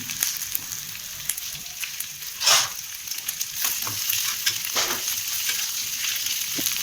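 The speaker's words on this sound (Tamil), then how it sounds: "பெரிய வெங்காயம், இது கூட சின்ன வெங்காயம். இப்போ இது 2 நல்லா வணக்கணும்." Big and small onions fry in hot oil with a steady crackling sizzle, one louder burst of spitting partway through, and scattered scraping stirs close by.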